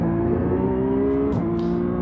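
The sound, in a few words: Porsche Cup race car engine revving at Sebring, iRacing video game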